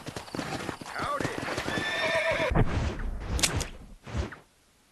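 Horse in Red Dead Redemption galloping with rapid hoof clip-clop, then a loud whinnying neigh, followed by a few snorts and hoof sounds, close and clear.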